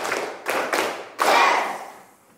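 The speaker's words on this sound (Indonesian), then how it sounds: "Oke, 1 kali tepuk 5" Classroom of students at a junior high school clapping a rhythmic pattern: a few sharp group claps in quick succession, then a final louder clap that rings out and fades.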